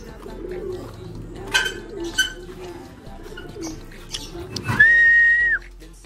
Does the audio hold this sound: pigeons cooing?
yes